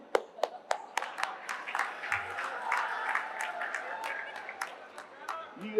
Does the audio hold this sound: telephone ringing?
no